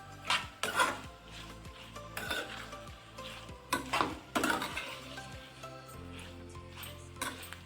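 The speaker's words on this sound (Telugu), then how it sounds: "బాండి పెట్టుకొని గీ వేసుకున్న తర్వాత ఇందులో మనం ఉడికించుకున్న పన్నీర్ ముక్కలు వేసుకున్నాను." Boiled paneer pieces frying in ghee in a pan, with a steady low sizzle under repeated scraping and clinking stir strokes at close range, and no talk.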